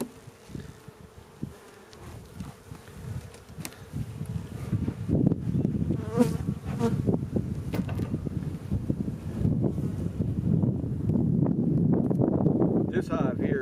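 Honey bees swarm around an open beehive with a dense, droning buzz that starts sparse and swells to a loud, continuous hum, with occasional handling noises close by.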